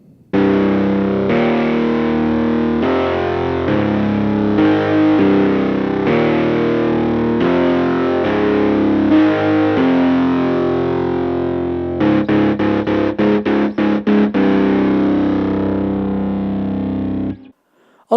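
A distorted, effects-laden synth plays a chord pattern in FL Studio, the chords changing every second or so, then a quick stuttering run of short repeated hits before cutting off, loud with no talking.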